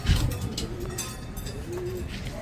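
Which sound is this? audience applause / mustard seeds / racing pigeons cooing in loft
racing pigeons cooing in loft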